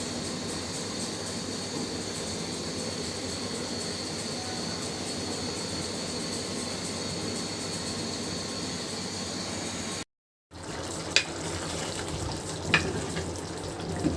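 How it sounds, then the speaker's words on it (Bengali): Beef curry fries in a pan with a steady, close sizzle while it is stirred. After a brief cut there are a few sharp clinks of the utensil against the pan. "নাড়া দিয়ে দিচ্ছি"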